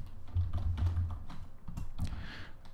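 Fingers type on a computer keyboard in quick clustered bursts of clicky taps, close and fairly quiet, with brief pauses between runs and no talking.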